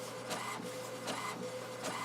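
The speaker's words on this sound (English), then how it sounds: "I'm going to put that in my printer" A desktop printer feeds and prints on bright white cardstock with a steady, continuous mechanical whir, marked by regular rhythmic clicks and pulses of the print head moving back and forth.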